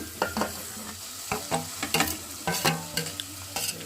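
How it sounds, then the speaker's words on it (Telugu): Curry with masala fries in a pan, giving a close sizzle with frequent clattering stirs and scrapes in an uneven rhythm. "కూరలకి మసాలా కూడా వేసుకొని వేయించుకోవాలి"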